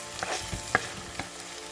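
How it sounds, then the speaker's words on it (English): Coarsely crushed ginger and garlic frying in a pan for a tapioca and salmon fish curry, a soft steady sizzle with a few stirring scrapes and taps, close and fairly quiet. "Next add ginger garlic coarsely crushed. Mix it well. Let it cook until that raw smell of the ginger garlic goes"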